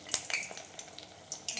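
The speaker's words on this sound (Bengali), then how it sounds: "এই যে কুমড়ো ফুলের বড়া ভাজছি" Pumpkin flower fritters sizzle in hot oil in a home kitchen, a faint steady frying hiss broken by a few sharp crackles and spatters, close and alone with no talk.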